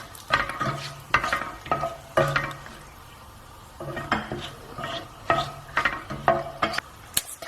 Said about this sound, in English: I'm going to start with my star anise, some peppercorns, and my bay leaf. Just mix that through.